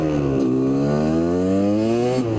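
A Kawasaki KDX250 dirt bike engine winds up, its buzzing two-stroke tone climbing steadily in pitch over a couple of seconds, loud and close.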